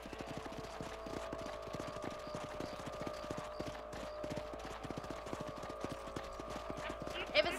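Horse hooves clip-clop in a steady, rapid rhythm while riding across a ranch in the video game Red Dead Redemption, continuous and fairly close under a low ambient hum, with talking over it.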